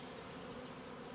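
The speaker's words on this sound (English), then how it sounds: "so these bees can kind of find their home too, so they're not left behind" Honeybees from a captured swarm buzz in a soft, continuous hum outdoors, faint and steady with no voices.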